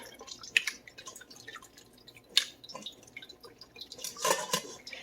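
Quiet trickling and dripping of goat milk draining through a colander into a bowl, with soft irregular splashes and a few louder drips against low background noise.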